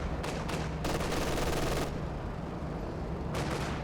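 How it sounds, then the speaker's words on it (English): A Calliope rocket artillery barrage in Company of Heroes 2 on La Gleize, a dense rumbling volley of launches and blasts in two bursts with a lull between, loud and continuous under a steady low battle drone. "Oh, now I've got a Calliope for Redshirts. 3 kills on the first barrage."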